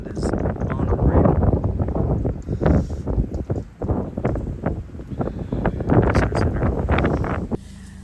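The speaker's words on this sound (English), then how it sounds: "Just the force of the wind is unreal." Strong gusting wind buffets the microphone at the Pine Springs visitor center in Guadalupe Mountains, a continuous loud roar that surges and eases over about seven seconds before cutting off abruptly.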